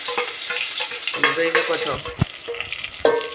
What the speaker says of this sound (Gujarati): ગાઈસ ફાઇનલી વઘાર થઈ ગયો છે